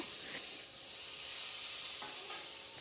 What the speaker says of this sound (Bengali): তারপর একটু তেলের মধ্যে পাঁচফোড়ন দিয়ে একটু সুন্দর করে ভেজে নিয়ে নিব